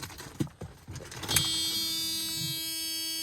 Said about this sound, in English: Power windows